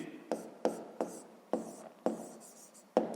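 Numbers written by hand with a pen on paper during a maths exercise, six to seven crisp scratching strokes in an uneven rhythm, close and quiet with silence between.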